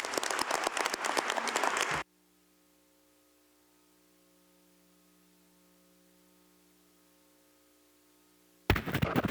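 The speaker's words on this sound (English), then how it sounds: "can I invite everybody to give the panelists a warm round of thank you" Audience applause for panelists at an expo round table, dense clapping for about two seconds, then near silence with a low electrical hum, and clapping bursts back in at the very end.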